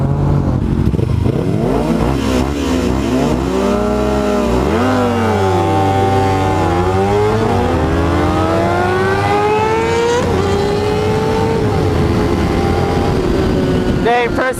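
Cars in a street race, one a Chrysler 300, roar as they accelerate hard, engine pitch climbing and dropping through repeated gear changes, loud and close throughout, with voices at times.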